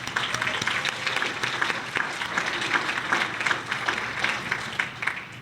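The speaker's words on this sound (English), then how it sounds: "Let's give a round of applause to the Holiday Inn and their staff." Banquet audience at an academic achievement dinner in a Holiday Inn breaks into sustained applause, dense even clapping from many hands that carries throughout, fading slightly at the end.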